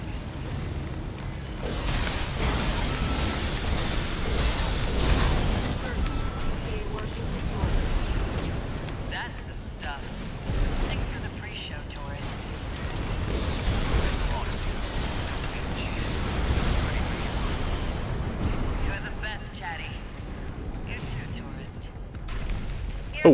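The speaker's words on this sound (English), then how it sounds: "You've blown up a warship." A warship blowing up in the video game Armored Core VI, heard as sustained rumbling booms and grinding mechanical noise. Game voices and a player talk over it throughout.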